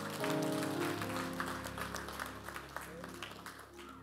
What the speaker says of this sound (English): You can put our hands together for her.